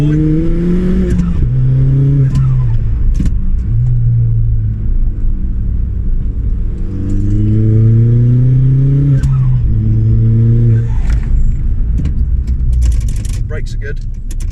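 A modified Ford Fiesta ST's engine drones inside the cabin while driving, rising and falling as it revs through the gears, loud and close, with the note climbing and dropping twice.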